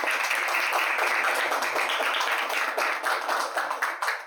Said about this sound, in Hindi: आइए तालियां।